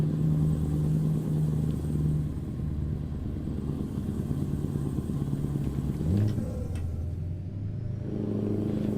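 A Scania V8 truck engine in American Truck Simulator rumbles continuously under heavy load, a deep steady drone with a brief pitch rise partway through as it revs, no talking.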